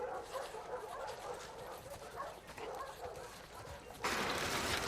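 Dog whimpering and yipping inside the video game The Last of Us Part II, steady and moderately loud against a busy game ambience, with a brighter burst of noise near the end.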